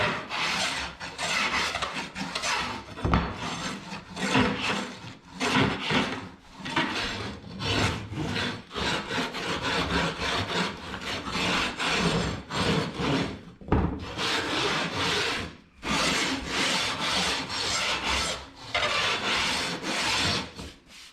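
Wood rasp smoothing a wooden transition in a rotten trailer home being rebuilt: continuous rough, rhythmic scraping strokes, loud and close, with short gaps between passes.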